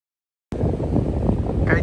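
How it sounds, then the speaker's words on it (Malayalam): Strong seaside wind buffets the microphone in a steady, loud roar after a half-second of silence, at a beach where kite surfers ride the wind on Koh Samui before a ferry to Koh Phangan. "ഇവിടെ നല്ല വിൻഡിയാണ്, കാറ്റുണ്ട്."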